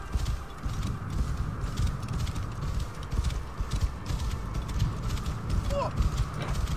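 Horse hooves clip-clop in a steady gallop through sand in Assassin's Creed Origins, a continuous rhythmic patter under game ambience and creaking, with French speech over it.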